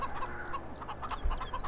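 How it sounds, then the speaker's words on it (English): Chickens cluck and chirp on a farm in the video game Farming Simulator 15, with a quick run of soft, close clucks and peeps over a low ambient hum. "I hear my chickens chirping"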